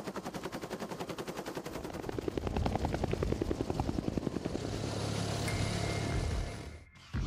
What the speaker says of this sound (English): here you can see a recovery helicopter operating out of a facility known as White Sands Missile